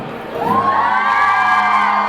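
A loud crowd lets out a sustained, high-pitched collective scream and cheer that rises quickly and holds.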